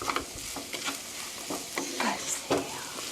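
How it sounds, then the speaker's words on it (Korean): Pear fried rice being stir-fried in a pan, steady sizzling with rhythmic scraping and tossing strokes of a utensil, close and clear. "볶아주세요."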